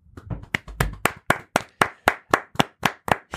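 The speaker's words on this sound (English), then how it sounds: "I want to give him a quick round of applause." A few podcast hosts clap in a quick, steady round, about a dozen crisp close-up claps that start a little ragged and settle into an even rhythm, with no talking.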